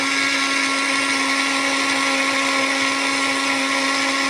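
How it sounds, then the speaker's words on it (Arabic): An electric blender runs steadily at high speed, whipping milk with drops of oil added to churn homemade butter, a constant whirring motor drone heard alone and close throughout. "افتح تاني واحط حبه زيت واضرب برضو"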